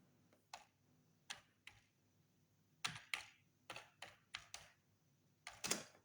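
Keys clatter on a computer keyboard while text is entered into a LibreOffice Impress slide, a run of separate close taps and short bursts with pauses between them, and no voices over it.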